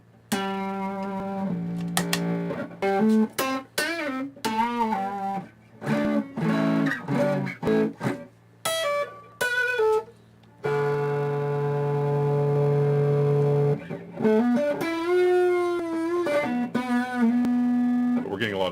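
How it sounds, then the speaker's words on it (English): Electric guitar played through a hand-built Dumble Overdrive Special amp, giving a loud, distorted tone with picked notes and phrases, then a long sustained chord and further bending lead lines, close and continuous. "We're getting a lot of distortion."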